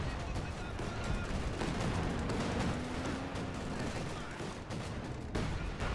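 A Maxim machine gun lays down suppressing fire in Company of Heroes 2, rapid bursts mixed with distant explosions in a constant dense battle din, with a commentator's voice running over it.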